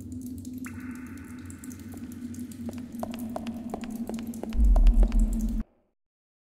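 Underground river in the video game Lost Horizon: steady flowing water with a low rumble, scattered drips and a sustained tone, ending in abrupt silence.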